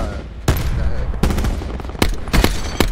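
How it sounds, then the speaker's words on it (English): Four or five sharp, loud gunshots crack out at irregular intervals, close and punchy, in a Call of Duty: Black Ops 4 Blackout match, with a busy game background between shots. "I literally shot one bullet out of my clip"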